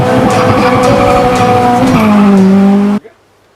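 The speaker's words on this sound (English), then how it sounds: "Today we are going to get maximum turbo flutter out of this boosted D16 Y8." Boosted Honda Civic D16Y8 turbo engine revving loud and close, a dense raspy roar whose pitch shifts downward before cutting off abruptly near the end.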